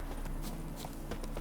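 Roach the horse's hooves clip-clop at a walk in The Witcher 3, a quick, even run of close hoofbeats over steady game ambience.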